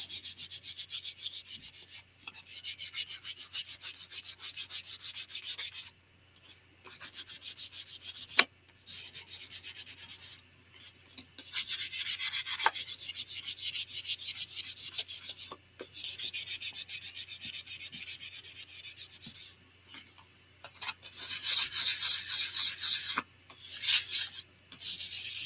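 A sanding pad works back and forth on a playing card in long raspy strokes, broken by short pauses, close and fairly loud with no talking.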